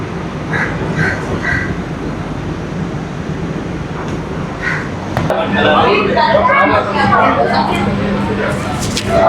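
Steady rumble of a Chennai AC commuter train in motion with rhythmic rail noise, growing louder midway, while a person talks over it.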